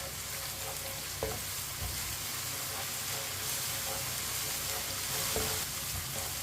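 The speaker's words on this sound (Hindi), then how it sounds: "लहसुन को मैंने अच्छी तरह मिक्स कर लिया" Crushed garlic and lightly browned onions frying over medium heat in a pan for moong dal, sizzling steadily, with occasional knocks and scrapes as they are stirred.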